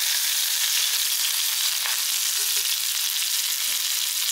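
Curry leaves dropped into hot oil sizzle with a bright, constant hiss, close and steady, with a faint clink or two and no voices.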